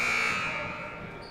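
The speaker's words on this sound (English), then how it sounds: "that was the buzzer, which means that we are starting now the second half of the game" A basketball game buzzer sounds in a busy gym at a boys' varsity game, signalling the start of the second half: a steady, loud electronic tone that holds over crowd murmur for more than a second before fading slightly.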